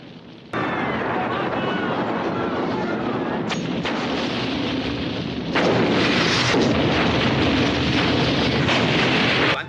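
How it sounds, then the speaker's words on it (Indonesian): A bomb explodes in a hospital scene in a film, giving a sudden loud boom followed by a sustained roaring rumble, with a second surge of blasts and crackling a few seconds later. "And boom! Meledak, membuat api berkobar ke seluruh rumah sakit."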